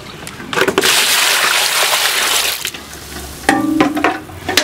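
Freshly harvested bamboo shoots are washed in water, with loud close splashing and sloshing and short bursts of rinsing and knocking against a basin.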